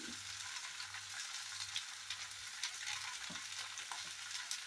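Green beans with mustard seeds sizzling steadily in hot oil in a pan for a Kerala-style thoran, a constant close frying hiss with faint stirring scrapes and no talking.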